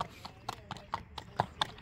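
Faint, rhythmic clip-clop of horse hooves on firm ground, about eight evenly spaced strikes at a steady walking pace, heard at a horse sale for ulak riding horses.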